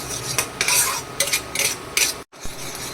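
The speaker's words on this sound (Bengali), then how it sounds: "আবার কষিয়ে নিয়ে একটু কষাতে থাকবো" Masala for chicken butter masala, sweetened with a little sugar, being stirred and fried in a pan: repeated scraping strokes of a spoon over a continuous sizzle, with a brief cut near the end.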